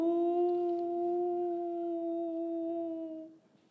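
A voice imitates a grieving dog's howl as one long, steady, mournful tone held for about three seconds before it fades.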